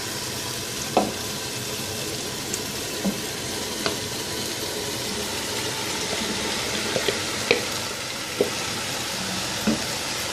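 Boiled rice being stir-fried with masala and green chilli paste in a pan, giving a steady soft sizzle with scattered clinks and scrapes of a spoon against the metal, without any talking.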